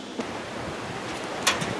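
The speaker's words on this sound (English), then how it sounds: "It's a windy day out today." Wind blowing outdoors on a windy day, a steady rushing noise with a couple of sharp gusts hitting the microphone.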